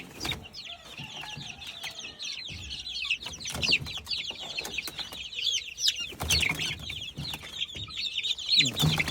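Country chickens crowded in crates cluck and squawk continuously at close range, a busy overlapping flock chatter with occasional louder calls and some handling noise.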